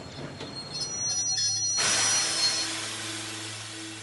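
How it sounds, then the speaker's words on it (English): A train's wheels squeal thinly while it slows, then a loud burst of hissing air takes over and fades as it settles. "After 3 days, the train stops."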